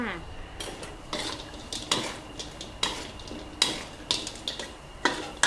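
Crispy fried chicken being tossed to coat in a thick fish-sauce glaze in a pan over low gas, with a spatula scraping and clanking against the metal in irregular bursts.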